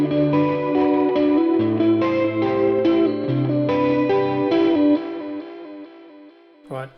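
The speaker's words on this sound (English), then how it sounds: "This turns on the delay coming from the timeline and uses that instead of the reverb" Electric guitar with added gain plays a chorded riff through a delay effect, ringing repeats trailing each strum at steady volume before the notes fade into a soft tail, ending with a short muted pluck.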